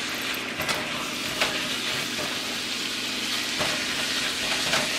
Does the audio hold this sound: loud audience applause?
no